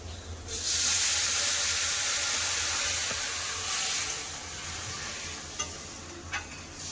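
Water poured into a pan of frying spice paste with potato, eggplant and bitter gourd sets off a sudden loud hissing sizzle that stays strong, then eases slightly, with a couple of faint clinks toward the end.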